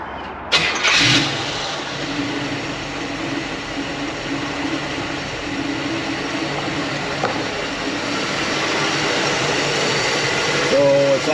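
A hot rod engine cranks and fires up, then settles into a steady, fairly loud idle that runs on evenly. A brief extra noise comes near the end.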